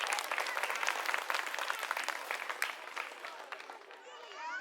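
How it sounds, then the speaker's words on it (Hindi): A crowd applauds at a political rally in Kasturba Nagar, Delhi, dense clapping at a moderate distance that fades gradually over a few seconds, with a voice beginning to speak as it dies down. "पहले तो एक बार ताली अपने लिए बजा लीजिए आप लोग।"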